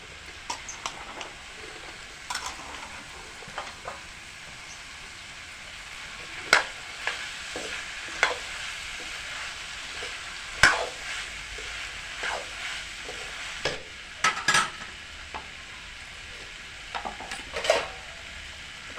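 Broad beans fry in a pan under a steady low sizzle, with intermittent spoon scrapes and light clinks as they are stirred, close and moderately quiet, no voices.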